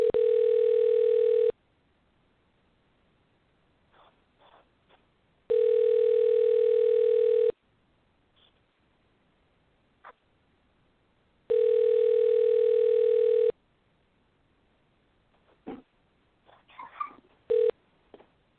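A telephone call rings out: three long, loud electronic ring tones with silent gaps between them, followed by faint background noise and brief clicks near the end.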